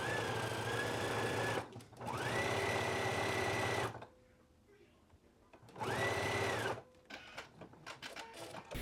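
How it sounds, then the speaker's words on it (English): A sewing machine runs a zigzag stitch in two long loud stretches with a quiet pause between, its motor whirring steadily, then light clicks and handling noises follow. "now I'm going to stitch in a 5/8 of an inch seam allowance using a zigzag stitch on my sewing machine"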